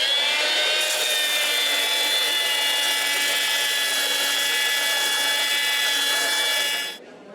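A grinder takes metal off a garden tool to sharpen its edge, giving a loud, steady high-pitched whine that holds for about seven seconds before it cuts out abruptly.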